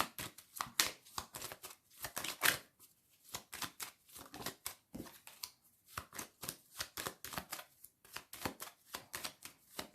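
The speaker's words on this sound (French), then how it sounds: "Je vais juste recouvrir le 9 de pique." Tarot cards are laid down and shuffled at close range in a card reading, making a rapid series of crisp snaps and flutters in irregular bursts, with brief pauses and no talking.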